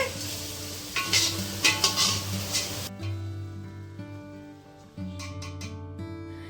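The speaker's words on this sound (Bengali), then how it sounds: "ভীষণ আলতো হাতে চালটাকে নাড়তে হবে" Washed, drained rice is gently stirred in a frying pan, with soft scraping strokes for the first few seconds, then a quieter, faint sizzle.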